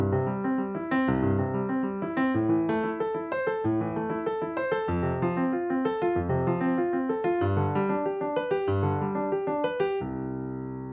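Piano arpeggios run at full speed in a fast, even rolling pattern of broken chords, loud and clean with no talking, ending on a held chord.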